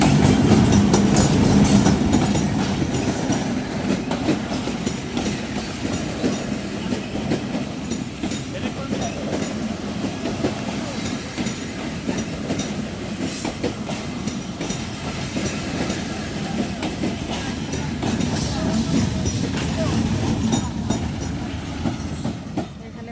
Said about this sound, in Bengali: উঠে এসেছে রেজে ট্রেন যাচ্ছে